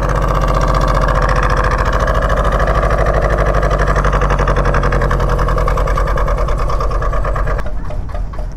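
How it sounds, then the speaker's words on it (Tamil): A small boat's engine runs close by at Nainativu near Jaffna, a loud, steady rapid chugging that continues evenly before dropping away near the end, with no talk over it. "அச்சோ, இன்ஜினுக்கு பக்கத்தில் நிற்கிறேன்."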